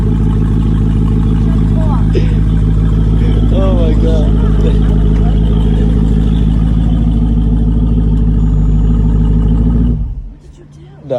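A straight-piped 2020 SRT with its exhaust unhooked from the headers idles with a loud, deep rumble and rises in brief revs, then cuts off near the end while a person exclaims.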